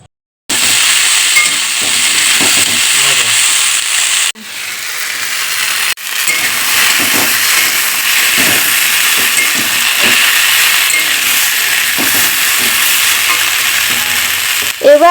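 Chopped onion fries in a pan with a loud, steady sizzle, broken by a few brief pauses and the scrape of stirring, with no voices over it.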